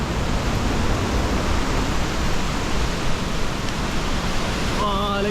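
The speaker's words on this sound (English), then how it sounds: "I think this must be my favorite waterfall I've been to in Bali" A Bali waterfall roars as a broad, steady wash of rushing water, loud and close throughout, with a brief voice surfacing faintly near the end.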